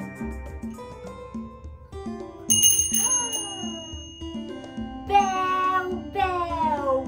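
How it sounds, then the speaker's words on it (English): A bicycle bell rings in a few bright metallic bursts, near and clear, over a gentle background of soft tonal music. "bell, bell, ring the bell"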